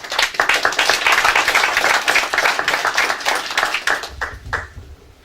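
An audience claps and applauds steadily for several seconds, the clapping thinning out and fading near the end.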